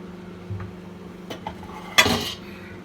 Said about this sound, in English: Just give it a bit of a stir